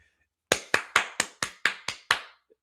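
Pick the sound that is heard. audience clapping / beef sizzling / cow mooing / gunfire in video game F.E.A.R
audience clapping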